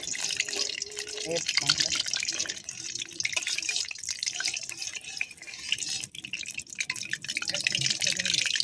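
Raw meat for a yogurt chicken curry being rinsed under a running kitchen tap, a steady hiss of water with drips and splashes, while a voice speaks briefly over it.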